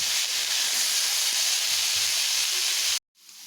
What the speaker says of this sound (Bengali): নুন হলুদটাকে ভালো করে মিশিয়ে নেব আর একটুক্ষণ ভালোভাবে ভেজে নেব